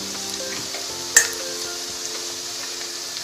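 Chopped garlic hits hot oil in a pan while making tadka, giving a steady, soft sizzle and frying hiss with one brief clink of a utensil partway through.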